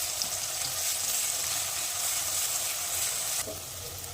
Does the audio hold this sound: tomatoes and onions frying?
yes